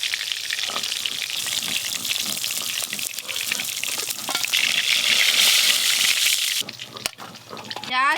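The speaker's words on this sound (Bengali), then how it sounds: "হালকা করে ইলিশ মাছগুলো ভাজা হয়ে গেল" Hilsa fish pieces fry in oil, a close continuous sizzle with clinks and stirring, swelling louder midway and breaking off near the end.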